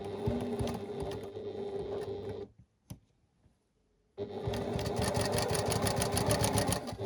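A sewing machine stitches a quilt block, a fast steady mechanical whir heard up close, pausing for about two seconds with a faint click before resuming at full speed.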